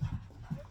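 A pet dog pants in short breathy bursts, close and fairly quiet, with a couple of louder huffs at the start and again near the end.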